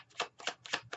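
A deck of tarot cards is shuffled by hand, giving four quick riffling bursts in an even rhythm, close and crisp, with no talking.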